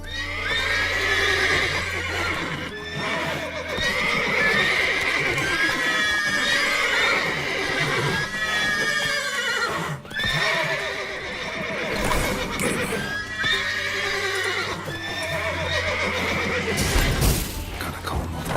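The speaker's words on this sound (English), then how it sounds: "Gotta calm all the horses" Horses in The Witcher 3: Wild Hunt neigh and whinny repeatedly, with shrill cries over snorts and the shuffle of hooves nearby, and a brief voice speaking among them.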